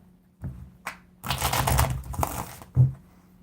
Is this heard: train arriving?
no